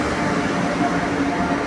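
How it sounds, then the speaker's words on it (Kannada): A train passes along a railway track in Karnataka, a steady, dense rumbling roar that holds at an even level throughout, heard from nearby without voices. "ಇದು 3ನೇ ಟ್ರೈನ್ ಹೋಗ್ತಾ ಇರೋದು"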